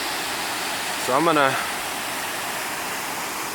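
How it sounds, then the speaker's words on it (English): Steady rushing white noise from the waterfall at Lower Darnell Creek Falls, continuous and constant throughout, with someone briefly talking over it. "this is Darnell Creek Falls, or Lower Falls, however you want to call it."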